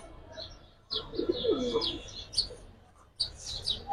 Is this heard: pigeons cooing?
yes